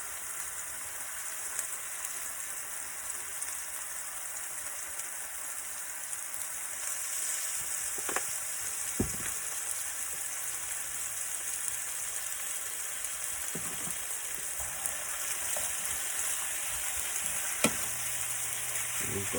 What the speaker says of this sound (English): A nice saute.